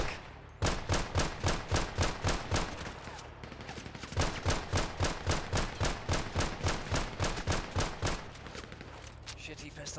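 Rapid bursts of pistol gunfire in the Roblox game CIA: CNR, two long strings of quick, evenly spaced shots, loud and close, with a short pause between them.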